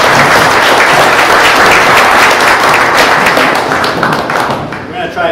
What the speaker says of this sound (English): if we can all give him a round of applause